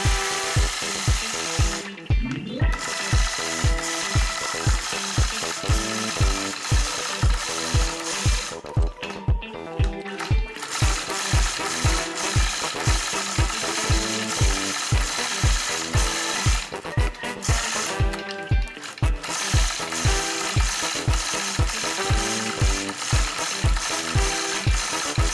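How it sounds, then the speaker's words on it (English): A sewing machine free-motion quilts a trapunto tumbling blocks quilt, its needle hammering in a fast, steady mechanical rhythm that runs loud and close throughout, with only a few brief pauses. "I think right now what I'll do is travel back over here and quilt it."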